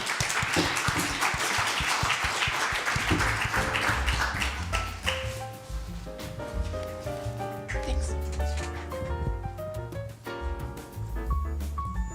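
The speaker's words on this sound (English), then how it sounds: "Round of applause." An audience at a sustainability and competitiveness summit applauds after a panel, a dense burst of clapping that fades after several seconds as voices take over.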